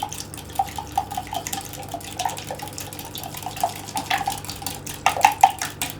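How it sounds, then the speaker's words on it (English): Lemon blueberry cake ingredients are whisked in a bowl, producing a steady run of quick, light metallic taps and clinks with a soft wet swish, close up and continuous, with no talking. "All I'm going to do now is whisk it all together so that it amalgamates"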